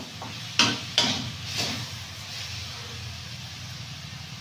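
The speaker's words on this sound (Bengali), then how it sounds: "মশলার সঙ্গে থোরটা নাড়া হয়ে গেছে" Banana stem is stirred and fried with spices in a pan: a low steady sizzle broken by a few sharp scraping clatters of the spoon early on, then softer stirring.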